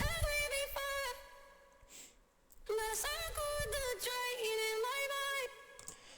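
A distorted, pitch-shifted vocal line sings in bursts with a brief gap in the middle, gritty and upfront, with no backing.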